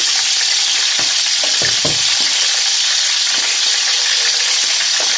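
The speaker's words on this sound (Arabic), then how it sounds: "احنا هننزل بالتتبيلة بتاعتنا زي ما انتم شايفين كده" Loud, steady sizzling and frying as marinade goes into a hot pan for cooking crab, with a few soft stirring knocks under the constant hiss.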